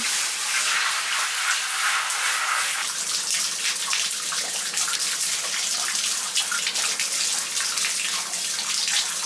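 Water runs steadily from a tap into a bath or sink while someone is being washed, a constant close gushing hiss that carries on alone without pause.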